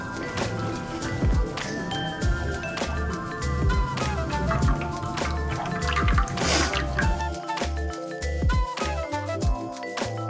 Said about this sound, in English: after it's blended, we're just gonna pass that through a sieve, gently pushing it down without pressing too hard